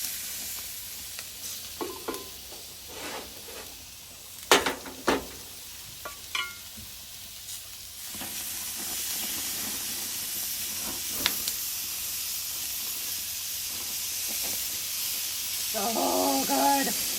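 Food brushed with olive oil and spices sizzles in a pan on a grill, a steady hiss with a few sharp clatters early on and a continuous frying hiss throughout.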